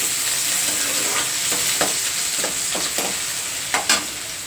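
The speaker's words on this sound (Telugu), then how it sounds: "మనం ముందుగా కట్ చేసి పెట్టుకున్న ఈ ఉల్లిపాయ ముక్కలు కూడా ఆయిల్లోనే వేసేసుకోవాలి" Chopped onion pieces hiss and sizzle steadily in hot oil with cumin and dried red chillies, punctuated by a few sharp stirring scrapes, loud and close.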